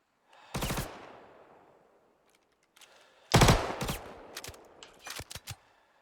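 Behring P8 submachine gun firing short bursts in the video game Star Citizen: an opening burst, a quiet gap, then a denser string of rapid bursts and cracks that taper into a few separate shots, loud and close.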